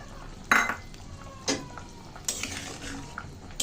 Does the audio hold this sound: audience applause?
no